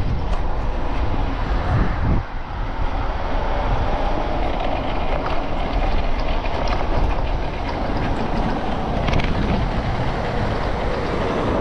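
A BBSHD mid-drive e-bike motor on a VESC controller spins the drivetrain and chainring while virtually freewheeling: a loud, steady, broadband whirring rattle that holds constant throughout, with no voices.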